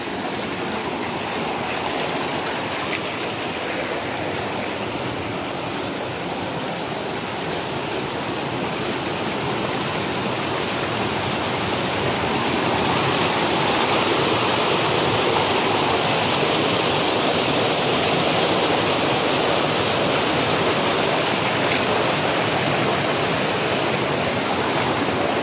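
A strong stream current rushes in a steady, dense roar that stays loud and continuous throughout, like water pouring over rocks close by, with no voices.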